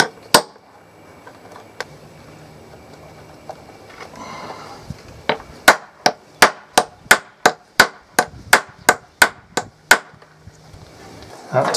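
A hammer strikes leather stamps into a leather horn holder: a couple of isolated knocks, then a steady run of about a dozen sharp, evenly spaced blows, close and loud.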